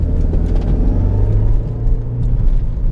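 A 2005 Renault Mégane RS engine on an open road: a loud, close, continuous rumble with a droning tone that holds and shifts as the car is driven, with no voices.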